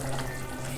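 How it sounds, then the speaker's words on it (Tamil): Oil heating in a pan on a stove for frying poori gives a steady, close hissing sizzle throughout the short moment, with no talk over it. "அந்த அடுப்பில் பூரிக்கு எண்ணெய் வச்சுருக்கோம்"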